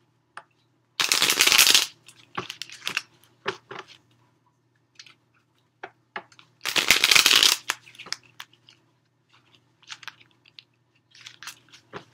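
Stiff tarot cards are shuffled in two loud riffling bursts, each about a second long, with softer taps and handling clicks between them, up close in a quiet room.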